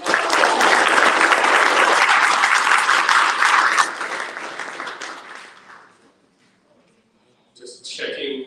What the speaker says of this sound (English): Awesome, give them a clap, guys.